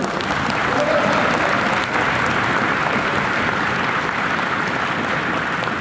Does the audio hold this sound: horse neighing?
no